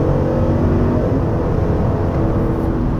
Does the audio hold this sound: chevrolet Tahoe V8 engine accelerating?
yes